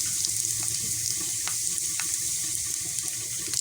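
Red chilli hits hot oil for a kadhi tempering, giving a steady, close hiss of sizzling with scattered crackles and pops throughout.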